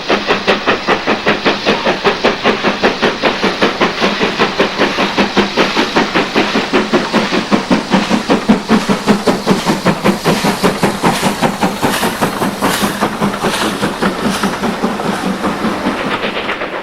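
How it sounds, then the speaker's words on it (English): Standard tank steam locomotive 80135 hauling a train across the moors, a loud sustained rhythmic chuffing beat with a steady mechanical rumble throughout, no voices. "the standard tank, 80135, appears again after picking up a different train"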